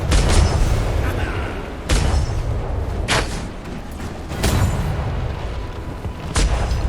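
Ship cannons firing broadsides in a multiplayer naval roleplay game, several loud booming volleys a second or so apart over a constant rumbling din, with voices shouting throughout.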